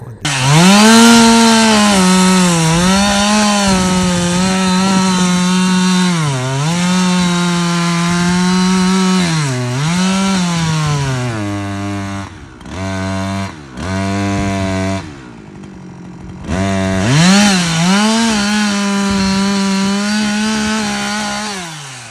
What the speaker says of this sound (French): je vais utiliser ma scie mécanique pour commencer à couper le bois en deux